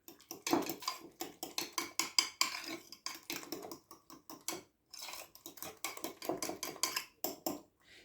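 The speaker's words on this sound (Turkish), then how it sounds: "Ardından biraz daha karıştırıyorum." A utensil beats cauliflower pancake batter with egg in a bowl, giving quick rhythmic clinks and taps in bursts with a short pause midway, close and moderately quiet, no voices.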